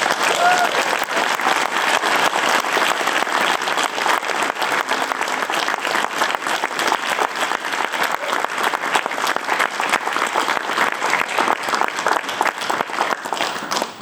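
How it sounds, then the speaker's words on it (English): Sustained, dense clapping from an audience at a PAX Australia indie showcase awards panel, loud and even throughout with steady crowd wash and no letup. "Please give a round of applause for our"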